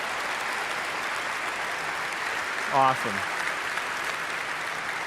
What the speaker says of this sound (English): Let's give them a big round of applause and congratulations.